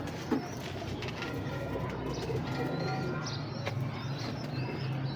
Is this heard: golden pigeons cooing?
yes